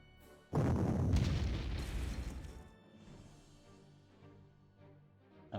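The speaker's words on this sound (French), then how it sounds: "Un petit tir de suppression." Artillery suppression fire in the Panzer Corps strategy game: a loud boom with crashing blasts, then a fading rumble and a faint late pop.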